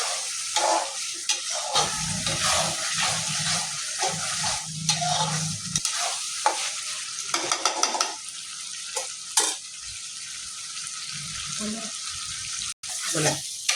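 Mutton masala being stirred in a pan as chopped tomatoes go in, with a steady frying sizzle and scraping spoon strokes throughout, plus a few brief watery clinks, all close and fairly loud.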